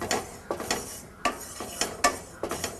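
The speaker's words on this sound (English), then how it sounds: "I'm just going to roast the sesame seeds, about 2 teaspoons of sesame seeds." Sesame seeds being dry roasted in a pan, heard as a series of light scraping and clinking stirs against the metal, irregular and fairly close, with no voices.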